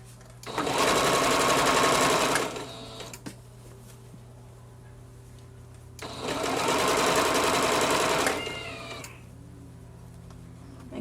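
A home sewing machine stitches fabric for a baby Moana outfit in two loud, fast whirring bursts of about two seconds each, the second a back stitch, with quiet pauses and a faint steady hum between them.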